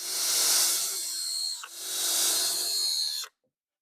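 A power drill drives screws into wood for a small On30 model railway layout, two sustained whirring bursts of about one and a half seconds each with a short pause between, close and loud, ending abruptly.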